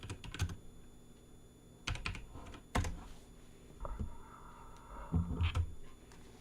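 Bursts of typing on a computer keyboard, quick clusters of key clicks separated by short pauses, close and fairly quiet against a low background hum.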